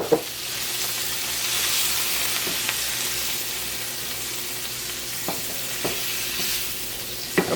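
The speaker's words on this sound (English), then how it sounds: "once it's wonderfully fragrant, we're going to add our chopped tomatoes" Chopped tomatoes fry and get stirred in a pan, giving a steady broadband sizzle through the whole stretch, with occasional sharper scrapes and clicks from the stirring utensil. No one speaks.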